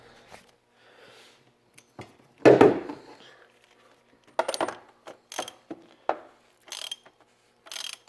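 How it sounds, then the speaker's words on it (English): Close, sharp ratchet clicks come in short bursts as a wrench snugs the oil filter cap during an oil change on a 2006 Chevrolet Cobalt LT 2.2L, with a few louder metallic knocks between quiet pauses. "Well, you do use a ratchet, but do not get it tight."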